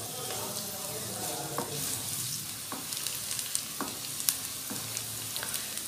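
Onions frying in hot oil in a pan over a medium flame, a steady close sizzle and crackle with occasional sharper pops and stirring sounds, no voices.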